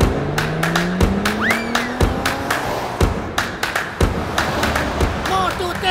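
A fast cartoon car chase near an opening London Bridge, with engine whooshes, sharp bangs and a squealing tire sweep, loud and busy under excited shouting voices.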